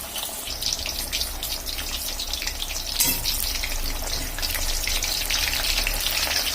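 Fish pieces frying in hot oil for a market-style fish fry give a steady, close, fairly loud sizzling hiss that runs throughout, with a brief louder crackle around the middle and no talking.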